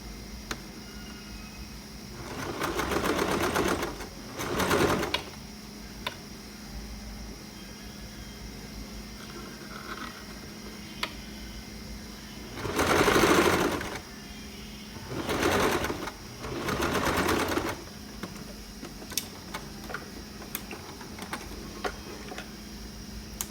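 A sewing machine stitches a sport-style shirt collar in several separate bursts of running motor and needle, each a second or two long, with quiet pauses and faint ticking between them.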